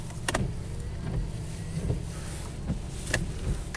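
A Nissan Pathfinder's blower motor running with accessories switched on, a steady low droning hum inside the vehicle, punctuated by a few sharp clicks and knocks.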